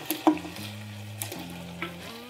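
Vegan smoked sausage fries until crispy in a pan with a soft steady sizzle, broken by a few brief stirring scrapes, up close and fairly quiet.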